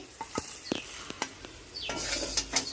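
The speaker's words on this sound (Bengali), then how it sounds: "উল্টে পাল্টে আরও এক মিনিট ভেজে নামিয়ে নেব" Banana pieces sizzle in hot oil while a utensil clicks and scrapes several times, and the frying hiss swells louder toward the end.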